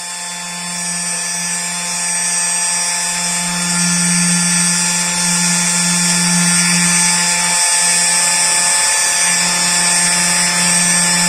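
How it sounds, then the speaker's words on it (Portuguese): A CNC machine spindle, controlled with GRBL, runs while cutting a drawing, producing a loud, constant high-pitched whine with steady tonal hum that barely changes for over ten seconds, no talking. "Spindle ligado, barulho pra caramba."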